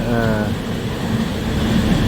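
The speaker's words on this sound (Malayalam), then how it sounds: "ട്രെയിൻ വന്നത് ബാംഗ്ലൂരിലുള്ള ട്രെയിനാണിത്" A train pulls into a station on the Bangalore line, giving a steady low rumble and rolling clatter that fills the whole stretch with a short tonal whine near the start.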